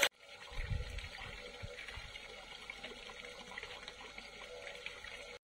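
Water gushes steadily from a pump pipe at a home in Dera Bugti, a soft continuous splashing flow after a brief start, quiet and close.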